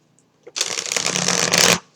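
Tarot cards being shuffled by hand, a dense continuous riffling rush of card edges lasting just over a second, close and fairly loud with no voices.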